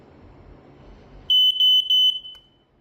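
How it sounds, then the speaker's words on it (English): A standard Australian smoke alarm, model 755 SMA, sounds its test with three loud, close, high-pitched beeps in quick succession after a low background rumble, then falls silent. "It's just a standard smoke alarm from Australia."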